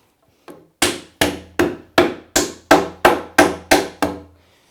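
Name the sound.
pneumatic nail gun shooting nails into wood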